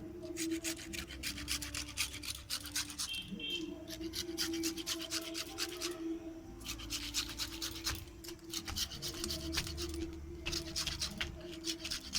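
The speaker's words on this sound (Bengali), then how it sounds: "এর গায়ে তেতকুড়ি ভাবটা চলে যাবে নিয়ে আর এই গামছাতে মুছে নিতে হবে" Washed lemons rubbed dry with a cotton gamchha towel, a close, continuous rasp of brisk cloth scrubbing in quick repeated strokes, pausing briefly midway before resuming; a faint background hum underneath and no talk.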